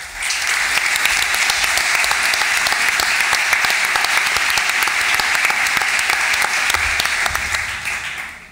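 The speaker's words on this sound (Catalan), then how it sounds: "Un fort aplaudiment." A conference audience breaks into loud, full applause for a speaker, many hands clapping in a dense continuous roar that holds steady before tapering off at the end.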